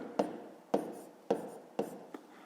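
A pen writes numbers by hand on paper during a fifth-grade decimal subtraction exercise, making four or five short, quiet scratchy strokes in an even rhythm, close and alone.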